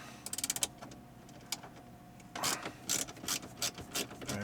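Ratchet and socket loosening 8mm bolts on a BMW E90, giving quick bursts of rapid ratcheting clicks, a short run early, a single click, then longer repeated clicking bursts, close and clear.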